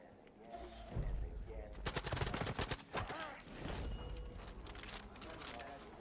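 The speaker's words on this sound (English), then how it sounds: "Why do I hear gunfire?" Bursts of rapid automatic gunfire in Far Cry 5, crackling volleys over faint game sounds and a voice speaking.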